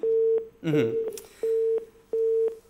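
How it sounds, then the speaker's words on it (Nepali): A telephone busy tone beeps in regular intervals, three or four steady tones with gaps, briefly overlapped by a short voice or clatter early on. "उहाँले फोन राख्नुभएको छ, काट्नुभएको छ।"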